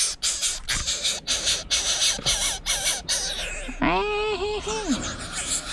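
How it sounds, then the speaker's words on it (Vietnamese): Two crows give loud, harsh, drawn-out caws close by, a burst of squawking calls with a voice briefly in the background. "Đấy, hai con quạ kìa."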